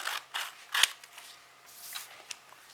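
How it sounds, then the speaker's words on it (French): Scissors snipping pieces of paper or card for a Christmas tree star ornament, with a few sharp, close cuts in short bursts and quiet pauses between them. "Donc je découpe tous mes morceaux."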